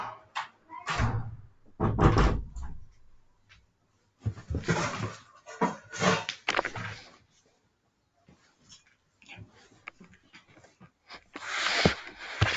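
An indoor door is shut with a few bumps and handling knocks followed by a firm closing thud, then quieter rustling movements, all separated by short pauses.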